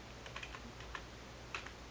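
Soft keystrokes on a computer keyboard as a server password is typed, a quiet scattering of separate clicks with a few slightly louder taps.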